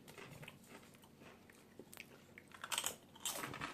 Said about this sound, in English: I hear you crunching.